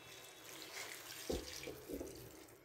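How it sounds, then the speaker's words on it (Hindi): About two cups of water are poured into a Peshawari mutton karahi with chopped tomatoes, a faint, brief splashing and gurgle with a couple of small surges, no talking. "मैं यहाँ पे 2 कप के करीब पानी ऐड कर रही हूँ।"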